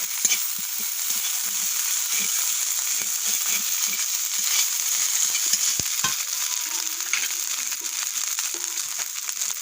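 Chopped onion and ginger paste frying in hot oil, a steady, bright sizzle with scattered stirring scrapes and clicks, close and fairly loud.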